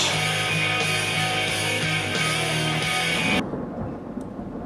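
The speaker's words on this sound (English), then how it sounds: "While the thunder in the rear is sounding" A deep, loud rumble of thunder rolls on for several seconds, then drops away abruptly into a quieter, fading background.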